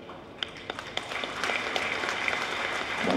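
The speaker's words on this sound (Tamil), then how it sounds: "நாங்கள் பார்வையாளர்களாக இருந்து கரகோஷம் எழுப்ப வேண்டும்." Audience applause at a statue opening event starts with a few separate claps, then swells into steady crowd clapping that grows louder toward the end.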